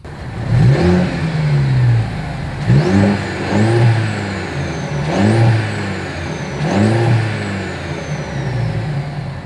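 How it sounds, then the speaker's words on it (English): A 2025 Mercedes-Benz E 350 sedan's exhaust as the engine is revved in several distinct bursts, each rising sharply and then settling back, loud and close with no talking. "As always, here is that exhaust clip."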